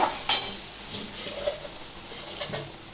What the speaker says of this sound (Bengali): হলুদ গুঁড়ো এটা আমি দিয়ে দিলাম আচ্ছা এটা ভাজা ভাজা হচ্ছে